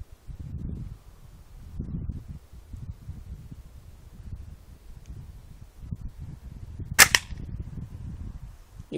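An AR 600 air rifle fires one sharp, close shot near the end, set against outdoor rustle and wind noise on the microphone, with no talking.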